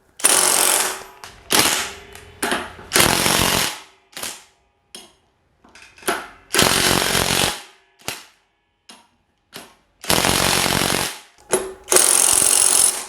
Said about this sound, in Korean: 미드 토크로 이렇게 조금 야무지게 한번 체결을 해봤습니다.